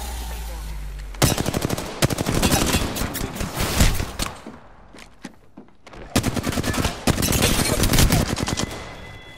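Bursts of rapid automatic gunfire from an Apex Legends match, loud and close, coming in dense volleys with a short lull in the middle before heavy firing resumes.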